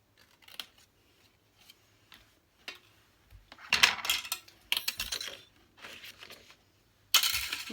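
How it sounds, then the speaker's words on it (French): Scissors snip through a paper triangle for a New Year card, with sparse light cuts at first, then a run of louder, close crisp snips and rustling paper. "avec notre ciseau, vous venez couper ce triangle"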